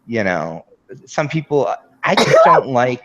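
A person talks, breaks off briefly, then a sharp, sudden sneeze bursts out amid the speech, loud and close.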